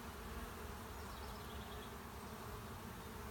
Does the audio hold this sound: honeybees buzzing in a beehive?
yes